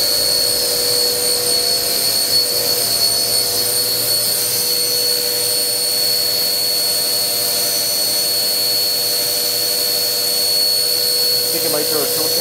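Bridgeport VMC 3020 CNC machining centre surfacing a part with its spindle running at 6,000 RPM, making a steady high tonal whine over a constant machine hum, with a brief clatter near the end.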